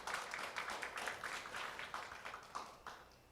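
Faint, scattered audience applause at a regional public-institution job ideathon final, a light patter of claps from a modest crowd in a hall, fairly distant and thin.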